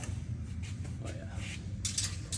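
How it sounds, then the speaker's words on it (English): A 1/4 inch bit ratchet with a 6mm bit tightens bolts on a 12 gauge 304 stainless steel catalytic converter shield on a second-generation Toyota, giving quick close clicking and creaking metal ratchet strokes, with light talk. "Bit ratchet in there."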